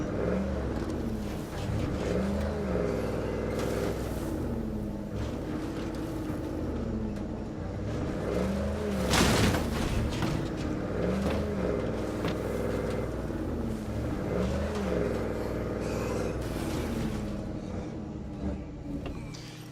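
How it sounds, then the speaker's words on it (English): A utility truck drives in the video game State of Decay, its engine holding a continuous drone that rises and falls with revving and shifting pitch, with a sharp burst near the middle and no speech. "he decides to take the utility truck to do it"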